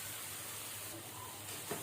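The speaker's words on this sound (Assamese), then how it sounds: "এতিয়া মই এইখিনি আৰু অলপ ভাজিম, ধুনীয়াকৈ ভাজি ল'ম" A spice paste fries in oil for a jackfruit seed curry, making a steady close sizzle with a faint stir or scrape near the end, brief and without talk.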